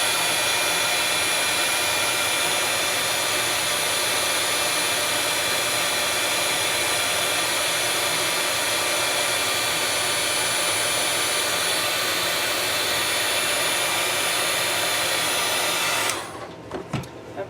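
Heat tool blowing hot air onto a clear plastic butterfly, a loud steady whooshing roar held close and constant for about sixteen seconds before cutting off abruptly, with faint handling noises after.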